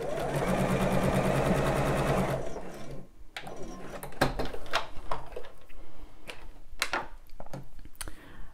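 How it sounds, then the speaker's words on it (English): A sewing machine runs a longer top stitch on a bra, a fast, even mechanical whirring for a couple of seconds, then stops, followed by scattered small clicks and handling sounds nearby. "Let's see what top stitching looks like. So I'm going to make my stitch a little bit longer and see how that goes."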